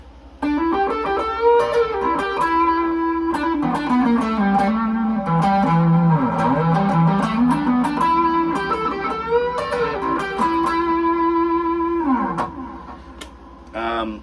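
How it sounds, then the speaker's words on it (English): Lead lines played on a Fender Partscaster electric guitar through the neck pickup with echo and reverb, sustained singing notes and bends, loud and close, trailing off into a fading tail. "You can hear I have a little bit of echo and reverb engaged"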